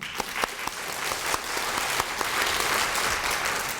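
Applause from an audience of doctors at a nutrition lecture, a steady wash of many hands clapping with a few sharper individual claps standing out, moderately close and continuous throughout.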